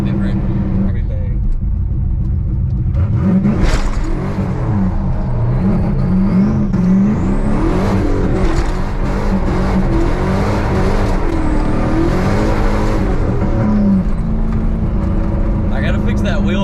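Turbocharged Camaro engine revving hard while the car slides, a loud continuous roar with rising and falling rev swings and tire whine, heard from inside with people talking over it.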